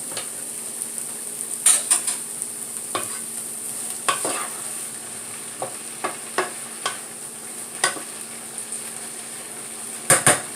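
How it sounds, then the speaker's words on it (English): A pot boiling on medium-high heat bubbles and simmers quietly under a steady hiss, broken by occasional clinks and taps of a utensil against metal. "they're boiling on a medium-high heat"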